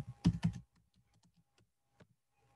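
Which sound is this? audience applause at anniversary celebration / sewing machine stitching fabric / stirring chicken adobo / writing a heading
writing a heading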